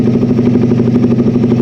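A Suzuki Raider 150 motorcycle, fitted with a Keihin 28mm flat slide carburetor, idles steadily up close, its engine running in an even, pulsing rhythm while it warms up.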